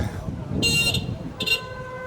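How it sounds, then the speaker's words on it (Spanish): Two short car horn honks, the first longer than the second, sound over background traffic noise and murmuring voices in Tongli, an old water town in China. "Acá tocan mucha bocina."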